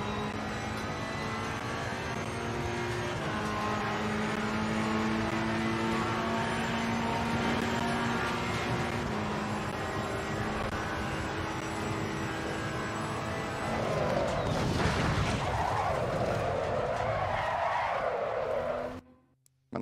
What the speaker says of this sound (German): Man erkennt ein Fahrzeug, das sich dreht nach einer Kollision